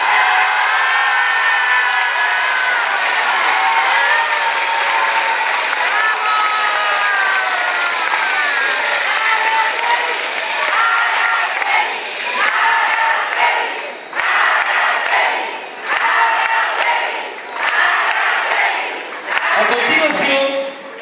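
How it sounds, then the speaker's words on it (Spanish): A crowd at a political event in Tetelcingo, Morelos, keeps up sustained applause with shouts and cheering, a continuous roar that breaks into a few choppy bursts toward the end. "recibamos también con un fuerte aplauso a nuestra presidenta del DIF, Araceli García Garnica."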